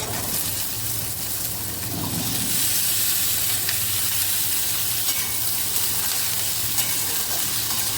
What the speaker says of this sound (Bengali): এবার আমি আলুটাকে ভেজে নেব, লাল লাল করে ভেজে নেব।